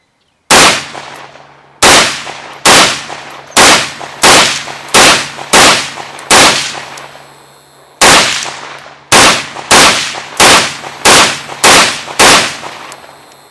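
Fourteen sharp, loud rifle shots fired down range with an Ultradyne Apollo sight mounted, spaced about a second apart in two strings separated by a short pause, each crack followed by a ringing decay and no talking.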